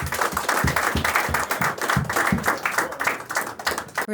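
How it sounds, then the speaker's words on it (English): A small studio audience applauds TE Dness, dense hand clapping sustained at moderate loudness for about four seconds before tapering slightly. "Round of applause for TE, please"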